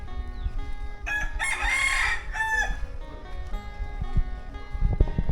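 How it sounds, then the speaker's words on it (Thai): A rooster crows once, fairly near and clear, in a rural village garden in Laos, its call rising and holding for about a second and a half before trailing off, with quiet countryside sounds around it. "เสียงไก่ขันนี่ยัง"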